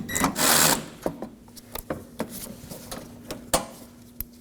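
A 7mm bolt is removed at the bumper corner of a 2018-2024 Chevrolet Equinox 1.5L, heard as a short whirring burst from a tool followed by scattered metallic clicks and taps, close and fairly quiet.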